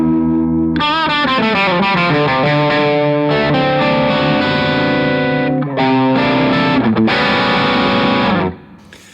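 Loud, heavily distorted electric guitar through a Revv Chat Breaker amp with a Tilt Boost pedal, playing a run of chords and notes, sustained and gritty, cutting off abruptly near the end.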